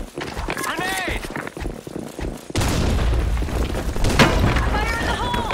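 A grenade blast in the shooter game BlackShot lands midway as a sudden heavy boom, followed by a dense rumbling roar of gunfire and noise, while voices shout callouts before and after it.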